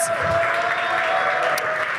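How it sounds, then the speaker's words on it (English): Steady applause from a crowd fills the whole stretch, a dense even clatter of clapping with a faint tone humming underneath. "Round of applause for MNRS."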